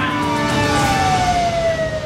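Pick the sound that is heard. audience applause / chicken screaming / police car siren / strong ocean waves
police car siren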